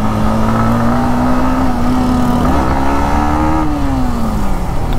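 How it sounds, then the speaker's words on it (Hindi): Yamaha MT15 V2 motorcycle being ridden, its engine note climbing and falling steadily through the gears with constant road and wind noise, loud and close throughout without talk. "तो अभी अपन राइड कर रहे हैं MT15"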